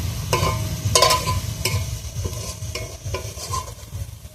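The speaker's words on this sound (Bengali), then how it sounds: "তরকারিটা আমি এবার ঢেলে নেবো।" Egg curry stirred and poured in a pan, with soft sizzling under repeated scraping and spoon-against-pan knocks spread through the clip, close and moderately loud.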